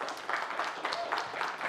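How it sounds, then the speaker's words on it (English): Audience applause fills the room at the close of a talk at BSidesNcl 2021, a security conference: dense, steady clapping from a crowd, fairly close, with no speech on top. "Can we get a round of applause first"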